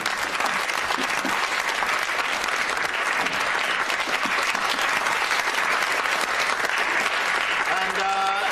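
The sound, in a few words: audience applause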